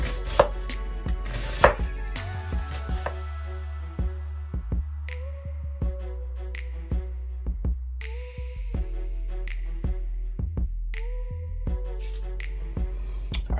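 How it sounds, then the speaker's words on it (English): A knife slices a red onion on a cutting board while lamb is prepared, with sharp close chopping taps coming at an irregular, unhurried pace and some ringing knocks between, with no talk. "cut this in half, and then we're gonna get some onion slices off this onion"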